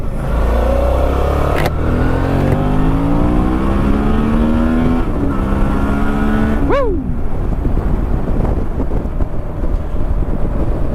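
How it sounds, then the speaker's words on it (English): A 650 motorcycle engine under way, loud and continuous with rising pitch as it accelerates through gears, a sharp shift drop partway, then a rougher lower drone with wind noise. "I know the 650 isn't the fastest bike in the world, but sure is still fun."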